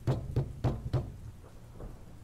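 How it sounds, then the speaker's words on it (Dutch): Four firm knocks on a door at night, evenly spaced and close, followed by fainter trailing sounds, with no voices. "toen ik op de deur hoorde kloppen."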